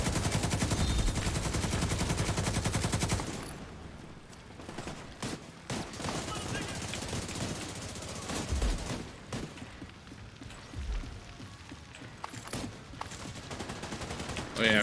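Heavy turret gunfire in The Division 2, dense bursts of rapid automatic fire cracking out after a loud opening stretch, continuing in sharp irregular volleys over a busy game battle.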